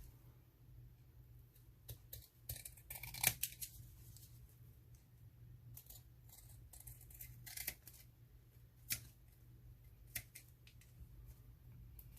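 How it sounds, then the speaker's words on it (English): Large scissors trimming the edges of paper for a vintage paper clip craft, sharp snips spaced irregularly over a quiet hum, close and crisp, with no talk. "I think I'm going to use a bigger scissors for this one."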